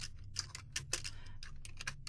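Rapid, uneven clicking of a computer keyboard as code tags are typed, steady and close but quiet, with no talking.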